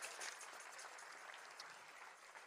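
A church congregation claps during a sermon, a soft, fairly distant wash of applause held at low, even volume, with no speech on top.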